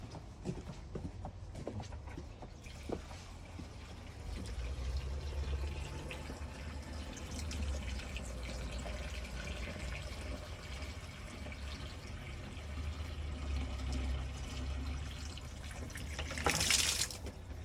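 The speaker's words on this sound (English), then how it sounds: "Oh, we can fill this back up with water." Water running steadily into a pond filter container, a continuous gurgling flow with a few clunks early on and a brief louder splash near the end.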